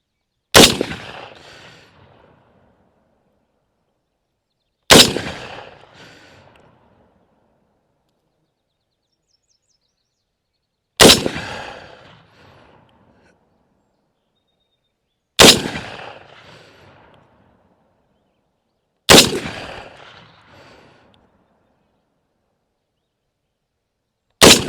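Five loud, sharp single shots from a Bear Creek Arsenal upper chambered in .243 Winchester, fired outdoors several seconds apart, each cracking hard and trailing off in a decaying echo, with no voices between them.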